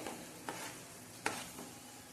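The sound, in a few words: stirring masala into chickpea curry in a pan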